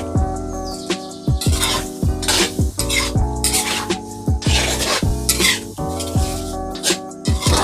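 A spatula stirs ginger, garlic and chilli in a pan for a zero-oil magur fish curry with ridge gourd. Repeated scraping strokes come close and fairly loud over steady tonal background sounds, with no talking.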